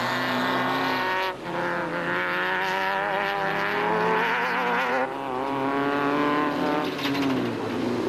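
A 4x4 Toyota Hilux off-road race truck at the Sun City 400 roars under hard throttle, engine note rising and falling continuously through gear changes, loud and close with a brief dip before surging again.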